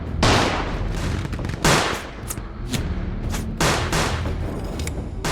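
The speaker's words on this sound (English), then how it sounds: "Lining up in massed ranks, they opened fire on the Russians." Massed British Guards infantry fire rifle volleys in ranks against the Russians in the Crimea, a series of loud, ragged crackling bursts repeating every second or so, close and dominant.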